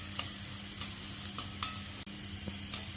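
Pepper, cumin, fennel, shallots and curry leaves sauté in a pan for chicken varuval, giving a steady close sizzle broken by a few sharp stirring scrapes, with no talk.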